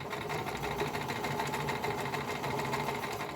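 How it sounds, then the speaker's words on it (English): A sewing machine stitches slowly and steadily, its motor and needle giving a continuous close, even mechanical whir with a fast repeating rhythm and no pauses. "I'm just gonna slowly go with the sewing machine."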